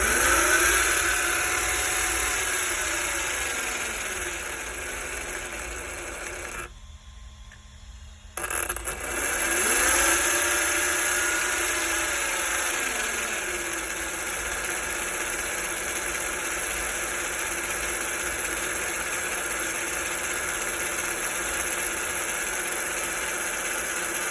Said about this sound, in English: So then I turn up the throttle a bit more, turn down the endpoint, turn up the throttle some more.